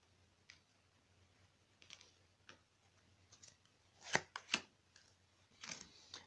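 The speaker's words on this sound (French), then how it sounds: "je vais couper mon jeu" A deck of tarot cards being cut and handled: quiet, scattered papery slaps and riffles, with a couple of sharper crisp snaps near the end, close and faint over a low hum.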